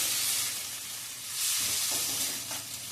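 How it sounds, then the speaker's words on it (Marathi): Carrots, beans, cauliflower and potato sautéing in a pan with tomato, a steady close sizzle with soft stirring and scraping throughout, no talk. "आता मी ह्या भाज्या ह्यामध्ये घालते. गाजर, बीन्स, फ्लॉवर आणि बटाटा. हे एकदा चांगलं परतून घ्यायचंय."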